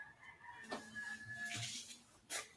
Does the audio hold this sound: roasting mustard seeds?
no